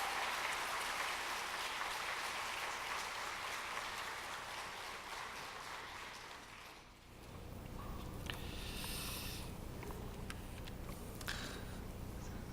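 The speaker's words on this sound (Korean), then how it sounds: "박수해서 하나님께 영광 돌리고 기쁨으로 맞이했습니다" Congregation applause during a Sunday church service, a dense sustained wash of clapping that fades out midway, followed by quieter room sound with a few faint taps.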